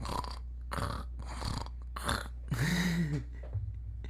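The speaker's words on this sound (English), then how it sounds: "Millie comes out snoring in the old videos" Slow, repeated snoring breaths from a nearby dog, a handful of raspy rumbles spaced about half a second apart in a quiet room.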